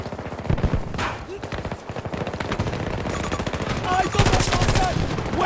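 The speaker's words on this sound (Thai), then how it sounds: "ปืนผมแม่งลั่นอย่างเร็วอะทุกคน ดูอัตราในการลั่นดิ" A rapid-firing gun in Battlefield 2042 rattles off long, dense automatic bursts, close and loud, with a heavy rhythmic pulse that swells into sharper, brighter volleys near the end.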